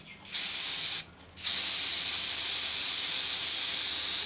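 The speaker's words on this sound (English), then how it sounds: "spray a bit more spray on there" Cheap hairspray sprayed onto a model tree being flocked: a short hissing burst, a brief pause, then a long steady spray held for about three seconds, close and loud with no talk.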